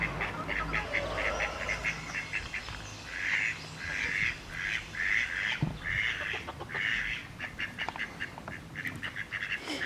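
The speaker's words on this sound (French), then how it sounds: "Encore une qui a débarqué ici, je sais pas d'où elle sort cette poule." A hen clucks and squawks outdoors in a garden in Brittany, with repeated raspy calls in short bursts over steady outdoor background noise, near and moderately loud.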